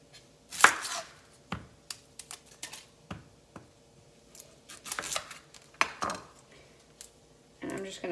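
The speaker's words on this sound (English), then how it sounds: "I'm going to chop up my onion" Knife chopping two small onions on a cutting board, a series of sharp irregular cuts with pauses between them, close and fairly quiet, ending in a quicker burst of slicing.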